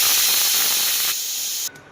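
A pressure cooker on the stove vents a loud, steady hiss of steam, near and continuous, dropping slightly in strength partway through before cutting off abruptly.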